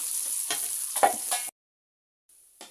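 Chopped onion and garlic frying in oil, a close, bright sizzle with a few spatula scrapes that cuts off abruptly midway, then a short return of sizzling after a pause.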